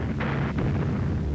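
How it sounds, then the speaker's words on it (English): Distant Soviet artillery gunfire rumbles continuously near the Reich Chancellery in Berlin, with two or three muffled booms rising out of a low, rolling roar. "The rumble of gunfire provided the accompaniment to the Führer's 56th birthday."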